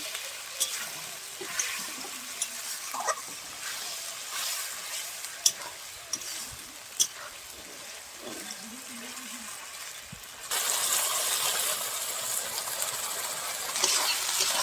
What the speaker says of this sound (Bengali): এবার একটু জল দিয়ে দেবো, জল দিয়ে ভালো করে মশলাটাকে কষিয়ে নেব।